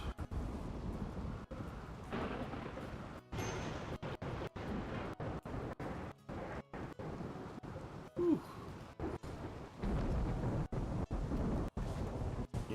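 Thunder rolls loud and close in Rimworld: Odyssey, repeated rumbling crashes over a constant bed of rain, with one short exhaled voice midway.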